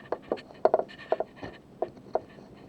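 Seam ripper cutting open a sewn buttonhole on fabric, a series of small sharp snips and ticks spread irregularly over a few seconds, close and quiet.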